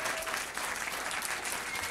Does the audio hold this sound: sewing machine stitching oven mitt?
no